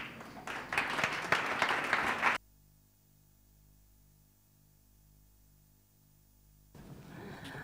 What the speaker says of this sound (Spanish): Adelante, un aplauso para ellos.